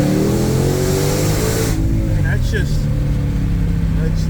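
Ford GT500 engine accelerating hard, a loud close roar that drops sharply as the gear changes and then builds again, with someone talking over it.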